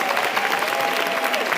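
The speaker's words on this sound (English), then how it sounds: "I think that you deserve another round of applause." A round of audience applause at a women's empowerment event, dense steady clapping with a faint sustained tone running beneath it.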